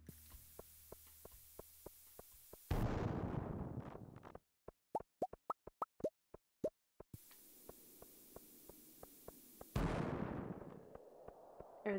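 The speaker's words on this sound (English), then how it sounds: "I just like using all the bombs." Bombs go off in the farming video game Stardew Valley, two bursts of noisy blasts that thump and then fade, separated by a run of sharp, popping clicks, moderately quiet overall.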